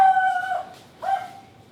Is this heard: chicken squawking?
yes